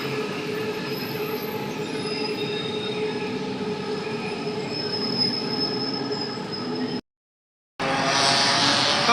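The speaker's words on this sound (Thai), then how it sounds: "เสียงรถไฟวิ่ง" A train runs past near the Pathumwan intersection by MBK in Bangkok, a loud sustained rumble with high steady wheel squeal, cutting out briefly before resuming.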